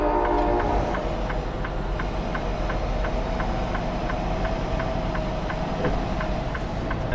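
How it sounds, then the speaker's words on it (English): A train rumbles past nearby with a steady rolling roar and rhythmic clicks of wheels over track joints, and no voices. "there was a train that just went by."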